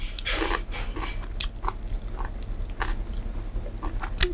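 Close, crisp bites and soft chewing of yaki-tanuki, a Japanese home-cooked dish made from leftover vegetables such as potato, pumpkin and carrot, in a quiet room with scattered crunchy clicks.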